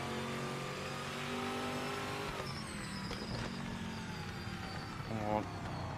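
A Corvette race car in a PS5 racing game accelerates with a steady engine drone that climbs through gears, close and prominent, while a voice talks over it.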